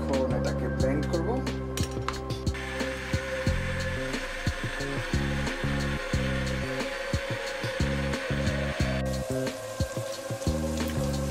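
A blender whirs through boiled cauliflower soup, its motor holding a steady whine for several seconds, with voices over it.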